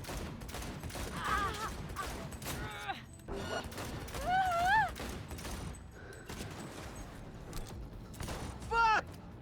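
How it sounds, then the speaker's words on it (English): Rapid video-game gunfire rattles in bursts during a police shootout in Cyberpunk 2077, with dense clattering shots, mechanical clicks and voices shouting in the mix. "we can start shooting people and indefinitely spawn police"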